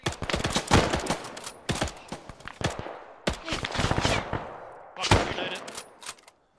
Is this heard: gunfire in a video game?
yes